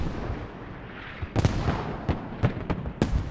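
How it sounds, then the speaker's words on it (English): Mortar shells crash down on infantry in the video game Squad, a handful of sharp distant explosive thuds arriving irregularly over a low rumbling battlefield background. "mortars landing on the TacTrig infantry"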